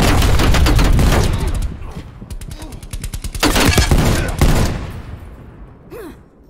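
Rapid, loud hand cannon gunfire in Call of Duty: Black Ops Cold War, with bursts of repeated shots, heavy booms and clattering effects that fade out near the end.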